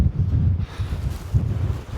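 Strong wind gusts in a mountain blizzard buffet the microphone with a low, rumbling roar that swells and dips over two seconds.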